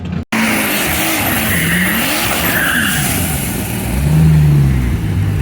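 A turbocharged 4.2 Chevrolet Trailblazer launches down a drag strip, engine roaring and rising in pitch through the gears, with a tire squeal and a loud, close turbo whine near the end.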